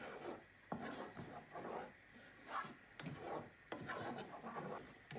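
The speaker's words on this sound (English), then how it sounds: "keep stirring because you don't want it to be stuck to the bottom of the pan either" A spoon scrapes and rubs through a taco-seasoned vegetable enchilada mixture in a pan, repeated rasping strokes in an uneven rhythm, close and fairly quiet.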